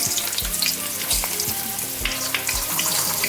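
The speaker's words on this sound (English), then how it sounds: "You want to hear that nice sizzling sound." Steady, close sizzling of fish frying in hot oil, with crackles and small pops throughout and no talking.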